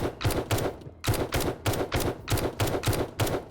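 Automatic assault rifle fire from the video game 7 Days to Die, a rapid string of about ten close, loud shots in even bursts with a brief pause near the start.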